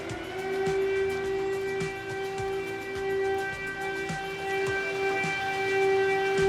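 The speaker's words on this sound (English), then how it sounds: "the siren, the air alarm are going." A loud, sustained air raid siren drones on a steady tone, with faint thumps and rattles underneath.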